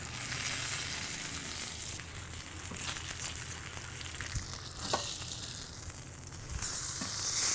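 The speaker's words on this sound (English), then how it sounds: "We're just gonna let this bacon get nice and crispy" Bacon fries on a griddle with a steady, moderately soft sizzle and hiss, with occasional pops and a faint scrape of a spatula near the end.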